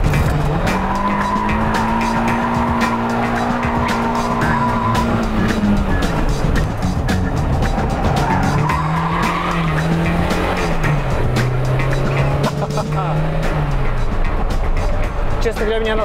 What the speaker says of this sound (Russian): Эта машинка действительно едет, и эти решения действительно работают.